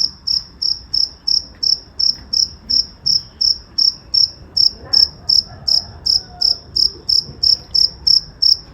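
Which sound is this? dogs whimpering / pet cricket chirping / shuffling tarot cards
pet cricket chirping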